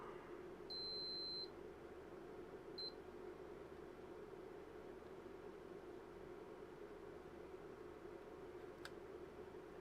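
A multimeter's high, steady electronic beep lasting under a second, then a second short beep, heard over constant low hum and hiss, while testing traces on a vintage Macintosh video card.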